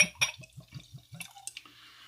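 Proper Twelve Irish whiskey glugs from the bottle into a glass in a quick, even series of about six close, soft pulses, followed by a few light clinks and drips as the pour ends.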